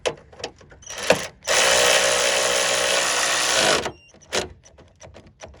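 A Walmart Hyper Tough cordless ratchet motor whirs steadily for about two seconds while tightening a bolt, then stops, with clicks and handling knocks before and after, loud and close.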